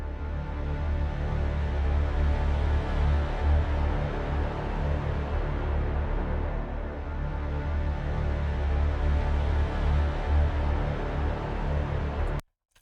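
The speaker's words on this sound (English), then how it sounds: "This is more like a pad sound." A fat synth pad with heavy low end and low mids holds a steady, dense sustained tone, loud and alone, swelling gently before cutting off at the end.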